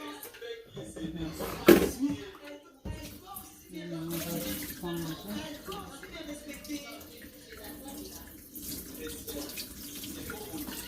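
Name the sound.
tap water rinsing collard greens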